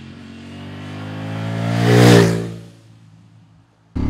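A 2023 Ducati Streetfighter V4S engine revs up in a rising, harmonic-rich howl that peaks loudly, then falls away as the throttle closes, leaving a quieter idle before a sudden return of engine sound.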